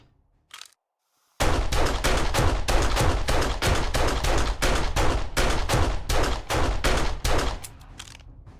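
Rapid automatic gunfire from a weapon in the survival video game 7 Days to Die, a loud sustained burst of closely spaced shots lasting several seconds after a brief single pop, then cutting off.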